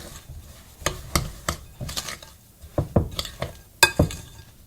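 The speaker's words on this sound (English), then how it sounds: "So I'm just going to go ahead and stir that together first." Vanilla extract and oil are stirred together in a bowl for carrot cake batter, a spoon clinking and scraping against the sides in quick irregular strokes, close and moderately loud.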